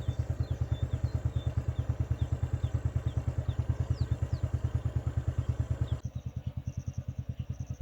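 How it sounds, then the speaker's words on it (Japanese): A motorcycle rides along a mountain road near Vietnam's northernmost border, its engine thumping in a fast, even rhythm close by, with a short pause and gear change before it carries on. "来た道をバイクで戻ります。"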